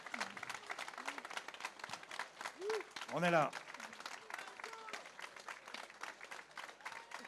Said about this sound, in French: On vous demande un maximum d'applaudissements pour Jonathan